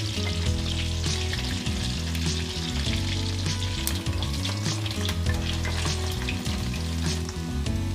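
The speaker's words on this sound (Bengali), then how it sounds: "মিডিয়াম টু লো ফ্লেমে আলুগুলো ভেজে নিচ্ছি" Potatoes fry in oil in a pan over a medium-to-low flame for an egg and potato curry, a dense continuous sizzle with crackles and the occasional scrape of stirring.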